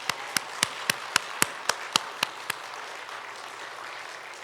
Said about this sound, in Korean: 여호와 하나님께 영광의 박수를 보내드리지 않겠습니까?